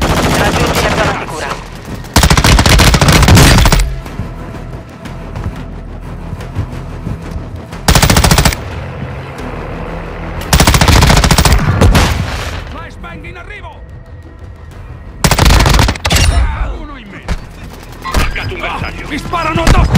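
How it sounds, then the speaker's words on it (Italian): Machine gun fire in Warzone 2.0, loud rapid bursts erupting in several separate volleys with quieter battlefield ambience and distant shots between them. "Mi sparano addosso!"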